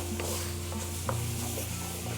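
Tomato paste being stirred and cooked out in a pan for a Filipino beef caldereta, a steady soft scraping and sizzling with a few stir strokes, close and continuous, no talking.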